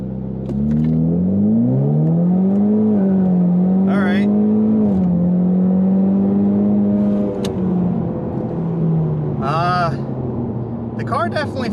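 A car launches hard from a standstill to 60 mph on over-inflated tires in a traction test, its engine climbing steadily through one long, loud pull with gear-change dips, close and continuous, with brief faint voices near the end.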